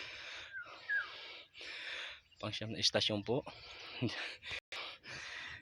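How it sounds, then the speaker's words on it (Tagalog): Heavy, wheezing breaths from someone climbing steep stone steps, a series of rhythmic panting gasps that recur through the clip, with a brief spoken phrase in the middle. "Hinihingal na ako."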